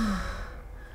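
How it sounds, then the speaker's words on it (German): Rapunzel yawns in the Disney Dreamlight Valley video game, a single breathy, drawn-out exhale that fades away over about a second, close and alone. "Sie gähnt gerade."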